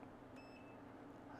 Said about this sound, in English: When you hear the beep, that means that it's about welded.